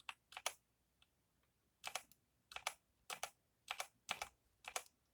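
Typing on a Redragon K530 mechanical keyboard: close, crisp bursts of key clicks in irregular clusters, with short pauses between each quick run of keystrokes.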